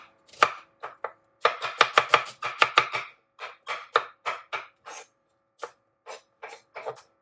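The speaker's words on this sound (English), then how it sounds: "Got the rest of those onions chopped up." Knife chopping onions on a cutting board while making meatballs, rapid crisp taps in quick clusters, then slower, more spaced cuts, close and clear with no talking.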